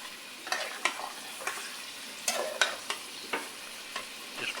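A spoon clatters and scrapes through beef korma with salt, black pepper and cloves in a pot, sharp stirring knocks repeating at an uneven rhythm over a low steady sizzle, close and with no talking.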